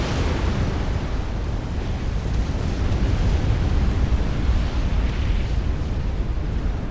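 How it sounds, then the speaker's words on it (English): A nuclear strike detonates in the strategy game Supreme Commander: Forged Alliance, heard as a loud, continuous roaring rumble that holds steady for several seconds with no voices. "this nuke is going to be the nail in the coffin for team number 1"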